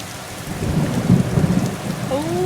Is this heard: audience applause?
no